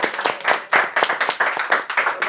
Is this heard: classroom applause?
yes